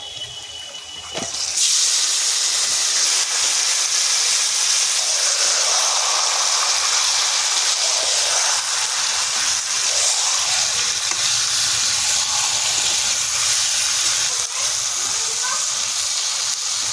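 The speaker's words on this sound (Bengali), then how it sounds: "এই ম্যারিনেট করা মাংসটা ওর মধ্যে দেব" Marinated desi chicken hits a pan of fried onions and breaks into a loud, continuous sizzle that starts abruptly and holds steady as the meat cooks.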